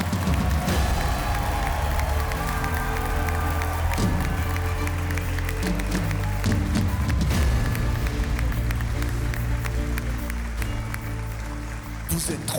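Steady, loud applause and cheering from the studio audience at a The Voice Afrique Francophone battle, sustained throughout with some voices mixed into the crowd noise.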